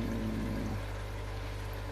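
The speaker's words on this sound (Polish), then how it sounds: "Jest tu spory ruch wody, silne napowietrzanie." Water churns constantly in a home aquarium kept for corydoras catfish, with strong aeration giving a dense, even rushing and bubbling hiss and a low hum beneath, close and unbroken.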